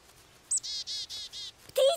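Small bird chirping while eating from a child's hand, giving a quick series of four or five bright, evenly spaced tweets, close and clear, followed by a sharper call at the end.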